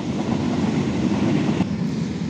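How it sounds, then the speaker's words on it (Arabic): A city tram rolls past up close, a steady loud rumble of wheels on rails with a dense mechanical roar that holds throughout and barely fades. "شوفوا هذا التران، صبروا"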